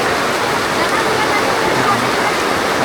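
Heavy rain pouring down, a loud dense continuous rushing hiss close by that stays unbroken throughout, with a voice speaking faintly underneath.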